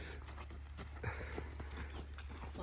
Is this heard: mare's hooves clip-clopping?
yes